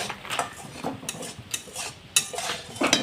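A spoon stirs caramel into hot milk in a pot, making light, irregular clinks and taps against the metal, quiet and close.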